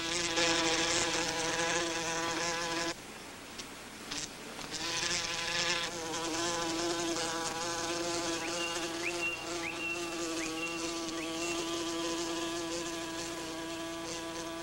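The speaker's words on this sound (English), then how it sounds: "The wasp's sleepy search for sweetness brings it to the neglected crop on the apple tree." A wasp buzzes steadily and close among neglected fallen apples beneath an apple tree in a garden, its drone wavering in pitch with a short dip partway through, heard alone without talk.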